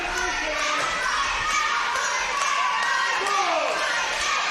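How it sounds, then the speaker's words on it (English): A packed wrestling crowd at a Hardcore Halloween show chants for Trent O'Day, producing a loud, steady roar of voices that fills the whole moment without a break. "The O'Day chants ringing out through the crowd."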